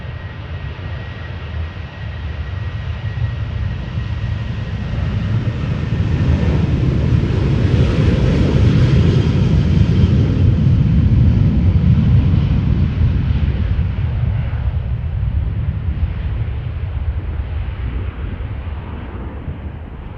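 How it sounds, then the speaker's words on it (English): An 11-year-old Boeing 737-700 departs runway 36L at Amsterdam Schiphol outbound to Newcastle, its jet roar swelling to a loud broad rumble mid-pass and then slowly fading into the distance, with no talk. "So this was a Boeing 737-700 outbound to Newcastle."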